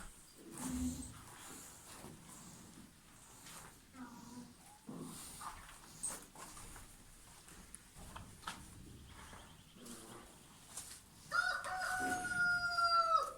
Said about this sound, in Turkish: Tavuklar da burada yumurtlama zamanında.